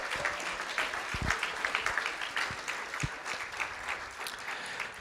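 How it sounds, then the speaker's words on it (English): Audience applause at a school district board of trustees meeting honoring art students, a steady wash of many hands clapping for about five seconds, fairly distant and even, with a few sharper claps standing out. "Let's give them a round of applause."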